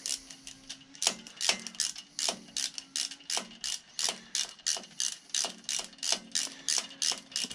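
Ratchet tightening a carburettor onto the manifold of a vintage 1930s Dennis lawn mower, a quick series of close, crisp clicks in short regular bursts with brief pauses between strokes.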